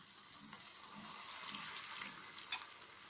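Fava bean falafel patty dropped into hot frying oil, giving a steady, fairly quiet hiss and crackle of sizzling with small bubbling pops, heard on its own without speech.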